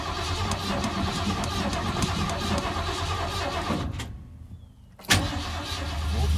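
A Ford Ranchero's engine cranks and fires into a loud running rumble, then cuts out abruptly for about a second before catching again with a sharp burst and settling back into a steady, close idle.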